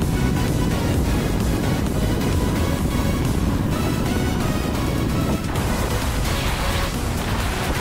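Motorcycle engine held at high speed in fifth gear, a loud steady roar blended with heavy wind rush that barely changes throughout, no talk.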